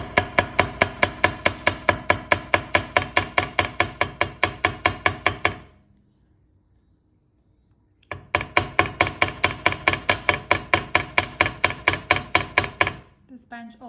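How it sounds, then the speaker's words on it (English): Rapid, steady metallic taps of a hammer lightly striking a metal jewelry heart pendant on a bench, close and ringing, in two long runs separated by a few seconds of silence. "and I like to hammer it."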